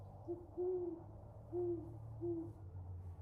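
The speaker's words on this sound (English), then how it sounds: "You hear the distant hooting of owls." Owls hoot in the distance as an audio drama sound effect, several soft, low, drawn-out calls in an uneven rhythm over a faint, quiet background, with no voices.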